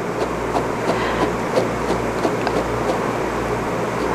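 A pet blower drives a steady, dense rush of air through English Angora rabbit fur during grooming. The noise stays continuous and fairly loud throughout, with faint irregular ticks riding over it and no voices.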